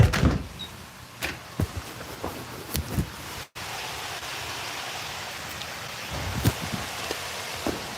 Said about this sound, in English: It's raining out there right now.